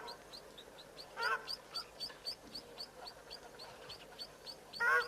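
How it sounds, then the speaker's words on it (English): Egyptian geese honk repeatedly at a distance, a series of short calls scattered across the clip, with a louder burst near the end over a faint background at a waterhole. "You also hear the Egyptian geese now in the background."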